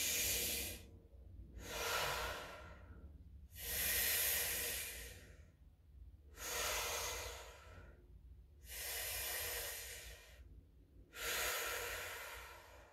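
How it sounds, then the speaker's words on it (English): Connected circular breathing during a breathwork session: six strong, airy breath cycles with rhythmic rising and falling hiss, each lasting about a second or more, close and fairly loud with no talking. "you're dropping into the circular breath."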